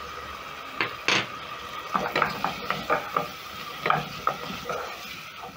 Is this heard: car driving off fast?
no